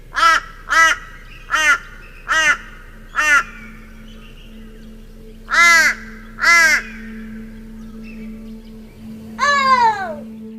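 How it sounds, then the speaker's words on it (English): Crows cawing in repeated harsh bursts, several quick calls followed by a pause and a few more, fairly close against a low steady hum. "Sounds like we have our own breed of bird in camp"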